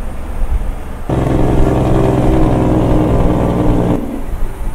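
A Freightliner Classic flattop truck in American Truck Simulator runs with a steady, loud, close engine drone that swells into a fuller sustained roar for a few seconds before easing back.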